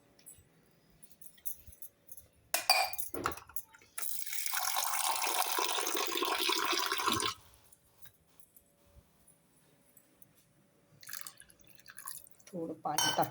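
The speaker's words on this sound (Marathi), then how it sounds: "थोडं पाणी टाकलं, जरासं घट्टच झालेलं आहे ते" Water is poured into a pan of reheated, slightly thickened vegetable curry, a steady rushing splash lasting a few seconds amid soft kitchen clatter, with brief voices before and after.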